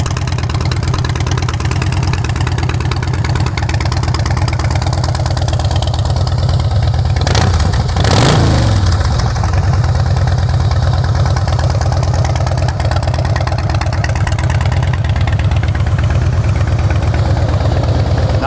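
A Harley-Davidson Rocker motorcycle engine idles with a loud, steady low throb close by, rising in one brief rev near the middle before settling back to a smooth idle.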